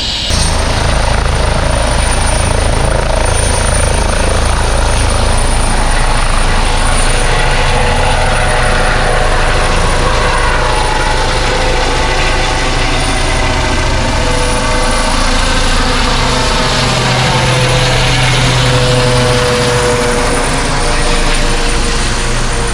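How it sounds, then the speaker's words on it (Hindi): A helicopter's rotor thumps and engine whine fill the air continuously, loud and steady, with the throbbing slowly shifting as it flies away over a lake at Zell am See, Austria. "ये हेलीकॉप्टर अब वापस जा रहा है।"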